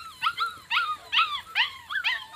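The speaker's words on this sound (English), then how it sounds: "They're going to bark." Standard Schnauzer puppies yipping and barking in five or six high-pitched, whiny bursts at a steady pace, close by and without talk.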